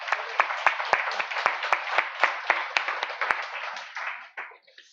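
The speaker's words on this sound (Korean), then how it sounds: "우리 주 예수 그리스도 내 사랑하는 주님께 우리 영광의 박수 한번 올려드립시다" A church congregation claps during a Sunday worship service, a burst of loud applause with sharp individual claps that grows thinner and fades away over several seconds.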